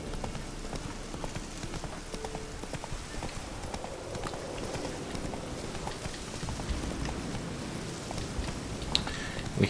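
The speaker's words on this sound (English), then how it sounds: "We have the horse." Horse hooves in The Witcher 3: Wild Hunt, a steady run of clip-clop hoofbeats beneath a dense, noisy game soundscape that stays at an even level throughout, with no talk.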